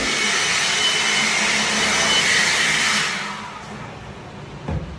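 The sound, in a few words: cordless air blower blowing dust off wood pieces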